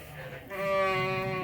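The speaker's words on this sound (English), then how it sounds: "Just had 2 lambs" Newborn lambs in a lambing barn give one clear, fairly close bleat that rises over a low background of voices.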